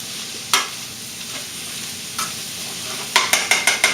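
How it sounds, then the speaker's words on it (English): Onion and bell pepper are stirred through olive oil in a pot, quiet background sizzle broken by a few scraping spoon strokes, then a quick run of rhythmic stirring clicks at the end, no speech. "Make sure I go to the bottom of the pot and coat all my vegetables in a layer of the olive oil."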